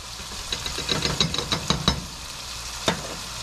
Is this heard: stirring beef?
yes